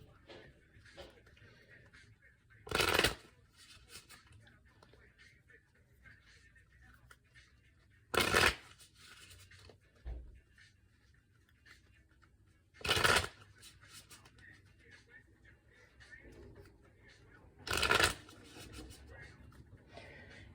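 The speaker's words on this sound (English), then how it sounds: "I'm going to go ahead and begin shuffling." A tarot card deck being shuffled in four short, crisp bursts spaced about five seconds apart, with quiet room tone and faint background noise in between.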